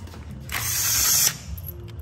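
A ratchet clicks as a socket wrench turns the motor on a blown 124-inch Harley-Davidson Milwaukee 8, a short burst of rapid mechanical ratcheting up close, fading into quiet workshop noise afterward.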